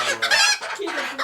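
Chickens, including a bantam, cluck loudly and close by on a homestead in a quick burst of overlapping calls lasting just over a second.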